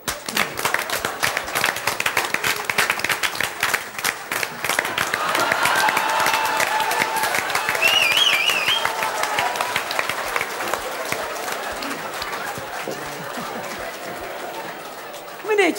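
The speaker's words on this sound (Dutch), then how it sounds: "Hiervoor wil ik een groot applaus voor mijn bijzondere gast" An audience at a village variety evening in Rijsbergen claps in a steady, rhythmic beat for a special guest. Midway a crowd murmur and cheering swell under the clapping, then the applause carries on at an even level to the end.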